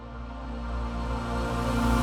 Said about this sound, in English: I made this reverb tail as a lead-in.